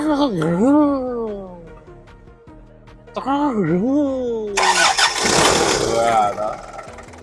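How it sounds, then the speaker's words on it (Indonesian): A 1995 Daihatsu Rocky is cranked twice, each time a rising and falling starter whine, before the engine catches and settles into a loud, rough, close-up run. "Kita coba starter dulu."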